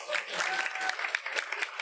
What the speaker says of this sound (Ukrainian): Євген, дайте Євгену оплески!